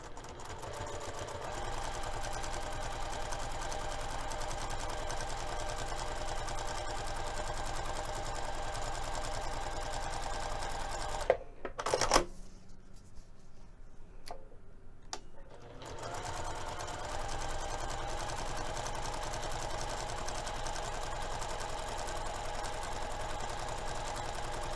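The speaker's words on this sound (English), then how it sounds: "we're going to top stitch both of the long edges using 1/8 of an inch seam allowance" A sewing machine top-stitches along the long edges of bag fabric in a sustained close whir, stopping briefly midway before resuming at the same steady pace.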